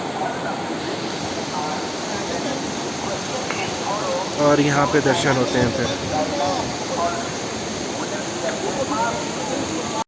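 Hot spring water flowing at Tapt Kund in Badrinath, a steady, loud rushing hiss throughout, with someone speaking briefly over it midway.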